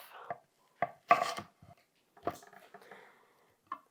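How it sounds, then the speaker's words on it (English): Knife slicing through an onion on a cutting board: a few separate crisp cuts and thuds, close and fairly quiet, with short pauses between them. "Okay, take your onion. Did you get it? We're going to cut it in half."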